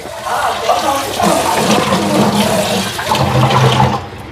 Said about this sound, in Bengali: দুধের সসপ্যানটাতে দুধ জল দেওয়া যাব এটা তো খালি জল দিয়ে একটু ধুয়ে থুই